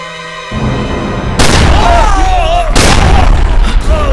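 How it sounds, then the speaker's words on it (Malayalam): A gunshot rings out in a Malayalam comedy drama scene: two loud booming bursts, the second following about a second and a half after the first, each with a lingering tail, set among voices and background sound. "ഇവൻ സതീഷിന് വെടിവെച്ചു."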